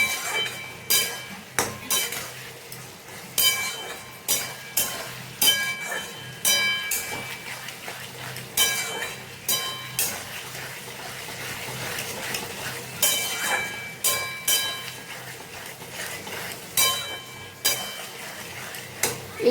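Ginger paste being sautéed and stirred in a pan, with repeated sharp scrapes and clinks of a utensil against the metal in a loose rhythm over a faint sizzle.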